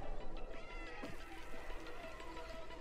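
A cat meowing in the video game Stray, a few plaintive mews over a busy background of game music and ambience, moderately loud.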